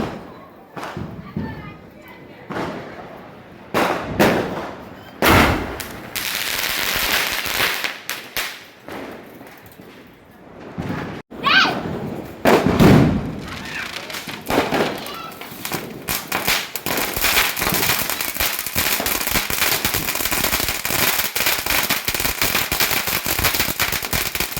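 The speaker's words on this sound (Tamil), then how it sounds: "இந்த ஸ்கை ஷாட் வைக்கலாம். சூப்பராக பறக்க போகுது. நல்லா வெடிக்கும்." Sky shot firework launches and sharp bangs crackle and thud at irregular intervals during a Diwali celebration, followed by a long, dense, continuous crackling. Voices can be heard at times.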